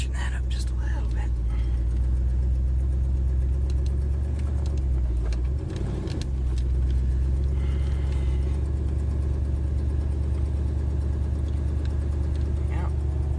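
A woodgas-powered car running without gasoline warms up with a steady low engine rumble throughout, nearby and fairly loud, with brief rattles and shifts in pitch and no talking over it.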